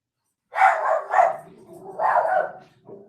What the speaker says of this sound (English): Oh, here go the fucking dogs.